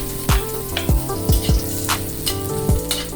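Garlic sizzles as it hits hot cooking oil for pork pochero, a steady close frying hiss broken by a few soft thumps, with a faint tonal background.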